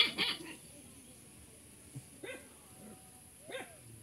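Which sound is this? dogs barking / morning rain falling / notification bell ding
dogs barking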